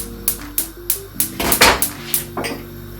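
A frying pan knocks and clatters onto a stovetop before heating for curry salmon, giving a series of sharp metallic clanks and rattles at close range with a denser scraping clatter in the middle, no voices.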